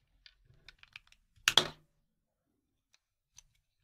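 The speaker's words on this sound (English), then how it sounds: "Insert it here, squeeze and cut." A PTFE tube, plain or Capricorn, squeezed through a cutter jig: a few light plastic clicks, then one sharp, loud crunching snap as the blade cuts through, followed by quiet and a couple of faint ticks.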